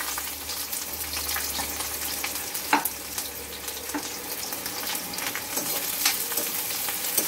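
Continuous crackling sizzle of onions frying in a pan toward golden brown, with a few soft scraping stirs, close and steady.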